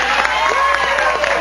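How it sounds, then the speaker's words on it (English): Studio audience applause on a live tech television show, a steady, dense wash of clapping and crowd noise filling the whole moment without pause. "Round of applause for Foo."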